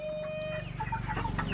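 Backyard native chickens cluck busily at close range while being fed rice in a rural province yard, a quick run of short overlapping clucks over a low steady hum.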